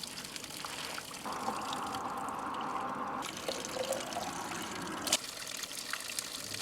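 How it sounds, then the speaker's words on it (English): Cold spring water running steadily and splashing as it fills water bottles outdoors, the tone shifting partway through as they fill. "we're gonna use it to fill up our water bottles"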